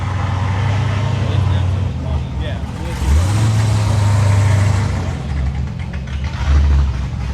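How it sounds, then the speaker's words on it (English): Cammed Chevrolet Camaro at a busy cars-and-coffee meet, its engine revving in several loud surges over a steady rumble of idling cars and crowd chatter. "Camaro sounds good. He is cammed out, isn't he?"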